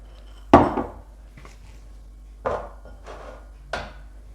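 Butter and sugar being beaten by hand in a bowl for German waffle batter, heard as a handful of separate knocks and scrapes, one sharp loud hit followed by softer, irregularly spaced thuds, close by with no talking.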